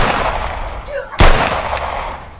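A single sharp gunshot bangs loudly in a stage drama battle scene, preceded by a brief faint voice and followed by a fading room echo.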